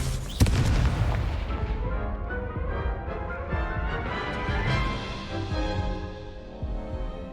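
Confringo and Incendio spell blasts fired during a duel in Hogwarts Legacy, a heavy booming burst up front followed by a dense, sustained rumble of impacts and crackling effects over game music.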